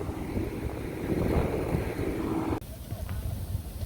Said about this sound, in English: So it's now very windy